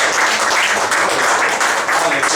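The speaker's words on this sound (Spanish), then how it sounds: "Dale un fuerte aplauso." A church congregation at Iglesia Bethel in Lima claps in loud, dense applause that holds steady for a couple of seconds, with faint voices blended in.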